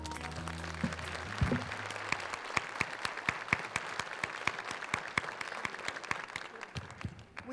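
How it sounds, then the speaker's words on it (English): A large audience claps for honorees at the 2013 Goldie Locke Excel Awards school program, a sustained steady round of applause with sharp individual claps, moderately close, tapering slightly near the end. "Let's give all of our honorees a great round of applause."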